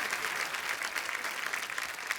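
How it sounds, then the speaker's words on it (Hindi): Audience applause on a TV comedy show, a steady patter of many hands clapping together, moderately loud and continuous. "जोरदार तालियां एक बार हो जाए।"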